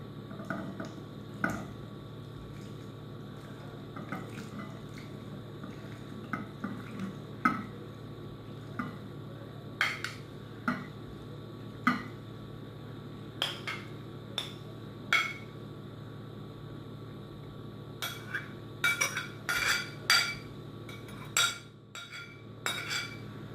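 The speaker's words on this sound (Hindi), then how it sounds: "तो अब इसे मैं सर्विंग बोल में डालूंगी।" Chana chaat, Lahori style, spooned from a mixing bowl into a serving bowl, giving a run of light metallic clinks and taps of spoon on dish, scattered and close, over a steady low room hum with no talk.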